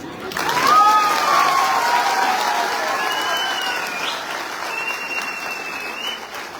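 Audience applause fills a hall at a gathering in Ranchi, a dense, steady clapping crowd that swells early and then holds evenly, loud and close, with a faint voice underneath.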